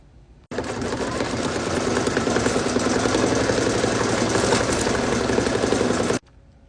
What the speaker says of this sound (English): I returned the hoop to the machine and stitched the placement stitch for the window as well as the bottom of the rocket